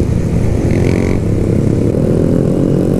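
A Honda Grom motorcycle roars loud and close during a stand-up wheelie on a group ride. The engine drones continuously at high revs, with no break and no voices.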